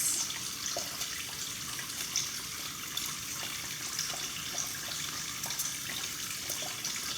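Warm tap water runs steadily into a sink while hands are washed beneath it, a continuous, even splashing stream with no voices.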